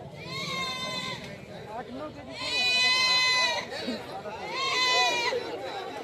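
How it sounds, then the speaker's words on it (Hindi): Goats at a crowded goat market give long, wavering bleats, three loud calls close by, over steady crowd chatter and people talking nearby. "यहाँ पर देख सकते हैं दोस्तों, बकरी है ये।"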